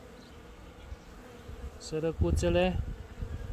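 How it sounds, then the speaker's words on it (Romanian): Honeybees being shaken out of a hive box give off a dense, close buzz that swells over a few seconds while a voice speaks briefly over it. "Hai să scuturăm și albinuțele astea"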